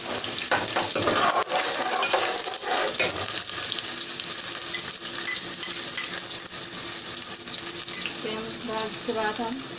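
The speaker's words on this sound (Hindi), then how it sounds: "प्याज चॉप करी हुई 1 अदद हम तेल में डाल रहे हैं" Chopped onion, one whole, frying in oil for a dhaba-style mash daal, giving a steady close sizzle with spoon stirring and scraping throughout.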